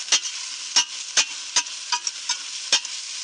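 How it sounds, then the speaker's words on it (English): Mushrooms sauté in a pan for a gnocchi side dish, a soft sizzle running underneath while about seven sharp stirring scrapes land at uneven intervals, close and fairly loud. "We want those mushrooms to start sweating, releasing some of their juices."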